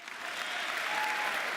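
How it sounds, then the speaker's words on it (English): An audience at the World Rescue Challenge 2022 opening event in Luxembourg claps in sustained, dense applause, steady and fairly close for the whole stretch. "You don't have to clap so long."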